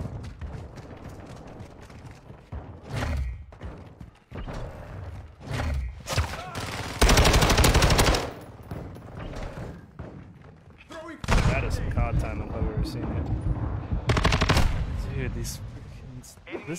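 Sniper rifle gunfire in a Call of Duty-style shooter, several loud, sharp booming shots spaced irregularly between quieter moments, with a player talking over parts of it.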